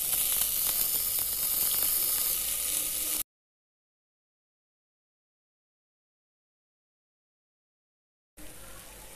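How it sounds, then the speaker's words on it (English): Soaked, drained rice goes into a hot pan of spiced mixture for jeera rice, giving a steady, loud broadband sizzle for about three seconds, then a long silence before the sizzling resumes briefly at the end. "Now I'm adding this soaked rice to the mixture."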